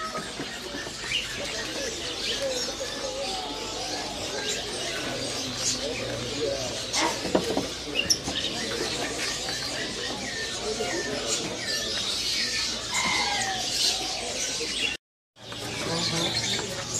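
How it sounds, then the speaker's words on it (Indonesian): Canaries of the panda and pocong varieties chirp and twitter at a bird kiosk in the Pramuka bird market, with overlapping tweets and calls against steady market bustle, with people talking nearby. "ini ya penampakan daripada burung kenari panda sama kenari pocong"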